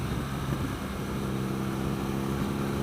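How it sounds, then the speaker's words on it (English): Engine and exhaust of a 2016 BMW R NineT motorcycle fitted with an Akrapovic exhaust, a steady, deep, continuous drone as the bike rides along, with wind noise and no pauses. "I'm going to call it my favorite sounding stock motorcycle exhaust."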